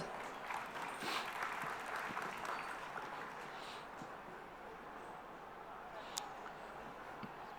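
A literary festival audience in Jaipur gives its authors a steady round of clapping that stays fairly faint and even, with the sound of the room underneath.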